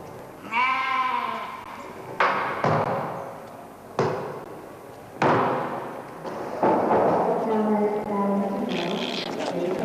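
Cartoon sheep bleat in a flock for an animated Passover story, several loud, wavering bleats arriving in separate bursts, some overlapping, with a dense sound bed between them.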